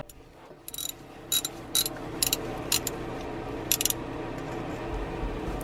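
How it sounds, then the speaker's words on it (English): A ratchet wrench clicks in short bursts while removing the starter from a Honda 3.5L V6, about six quick ratcheting runs spaced across a quiet background, close and crisp. "now we can just finish it up with the ratchets"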